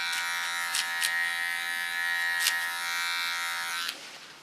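A small electric hair clipper buzzes steadily while trimming the neckline contour of a short haircut, a close, continuous whine with brief surges as it moves along the hair, stopping near the end.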